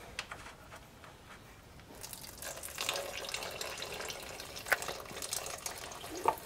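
Old engine oil drains from the front plug of a Mustang's oil pan, a quiet, uneven liquid trickle and splatter that builds after a couple of seconds, close by and without talking.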